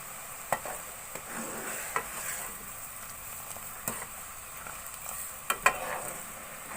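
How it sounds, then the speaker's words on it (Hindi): Cardamom sugar syrup simmering over low heat while being stirred, giving a soft continuous bubbling hiss with several sharp clinks and scrapes of a spoon against the pan. "अब इस चाशनी को मैं थोड़ा और गाढ़ा कर लूंगी।"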